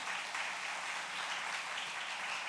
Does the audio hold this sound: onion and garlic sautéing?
no